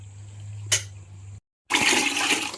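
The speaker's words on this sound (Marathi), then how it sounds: "तर आता ह्यातलं पाणी ना पाणी काढून घेते आणि एकदा आपल्याला धुवून घ्यायचंय" Water gushes off soaked wheat grains as it is drained away in a home kitchen during kurdai preparation. A short splash comes first, then a brief silence, then a loud, steady rushing pour.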